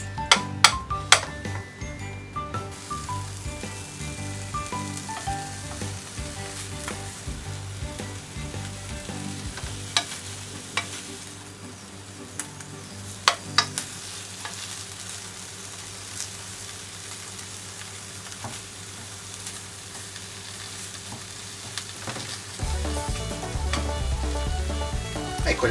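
Bacon frying in a pan for a BLT sandwich, a steady close sizzle running throughout with occasional sharp ticks and clinks, quieter in the middle and rising again near the end.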